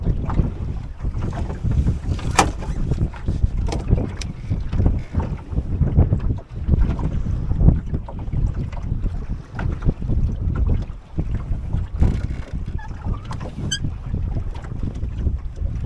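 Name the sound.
wind blowing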